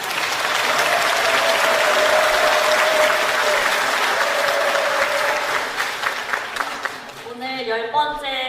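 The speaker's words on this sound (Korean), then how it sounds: "박수로 맞아주시기 바랍니다" Sustained applause from a gathered crowd at a prayer assembly welcoming a speaker, loud and even for several seconds before fading as a voice begins.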